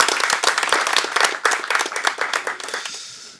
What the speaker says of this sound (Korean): 다시 한번 큰 박수로 응원해 주시기 바랍니다